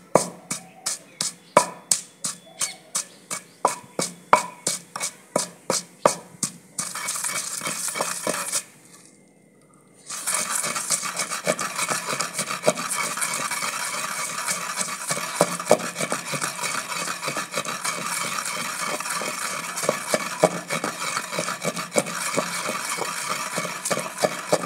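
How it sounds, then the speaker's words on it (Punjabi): Green chillies and garlic ground by hand for chutney, beginning with rhythmic repeated knocking strokes, then a continuous gritty rubbing and scraping after a brief pause, close by with no talking. "ਮਿਰਚਾਂ ਅਤੇ ਲਸਣ ਰਗੜ ਲਏ ਆਪਾਂ"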